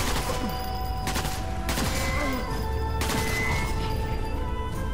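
Gunfire in the video game Sniper Elite 4: several sharp shots crack out in quick succession over a dense, continuous layer of in-game battle ambience.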